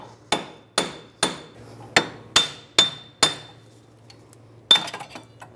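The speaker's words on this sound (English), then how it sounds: "Or you can use a slide hammer if that's not working." Seven evenly spaced sharp metallic knocks of a slide hammer pulling a rear wheel hub from a 2003-2008 Infiniti FX35, then a pause and a final heavier strike with rattling aftershocks, close and loud, no talking.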